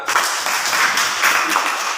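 Children and their teacher in an Indonesian classroom clap together in a brief, lively burst of many hands, close and fairly loud, with no voices over it.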